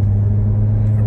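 An old Chevy engine, driven top-down at a car show, downshifts with rev matching; a steady, loud, close low rumble fills the brief moment.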